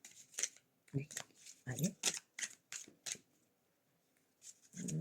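Oracle cards are shuffled and drawn in a string of quick, close, crisp riffles and snaps, quiet overall, with a brief spoken word among them.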